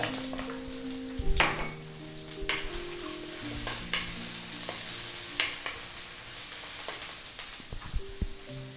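Chopped ginger fries in cooking oil in a hot wok with a steady, moderate sizzle. Occasional utensil clinks and scrapes sound against the pan, and a faint tonal hum runs underneath.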